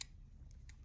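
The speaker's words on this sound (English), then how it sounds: "there's the scissors." Scissors snip during a crochet project on a Victorian doll dress, giving two quick, faint metallic clicks close by over a low background hum, with no talking.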